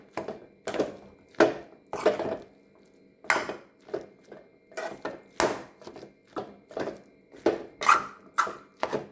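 A spoon stirs Kerala aviyal vegetables in a pot, with a rhythmic run of close clattering scrapes and knocks against the metal, repeating roughly every second.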